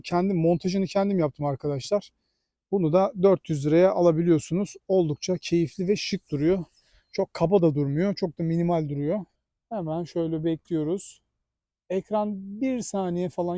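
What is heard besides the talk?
No everyday noises stand out.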